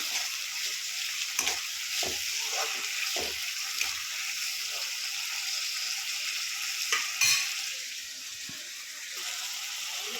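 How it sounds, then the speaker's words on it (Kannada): Steady hiss and sizzle of egg curry ingredients frying in a pan, with repeated scraping strokes of a spoon stirring through it, close and continuous, no voices. "ನೆಕ್ಸ್ಟ್ ನಾವು ಇದನ್ನು ಫ್ರೈ ಮಾಡ್ತಾ ಇದ್ದೀನಿ"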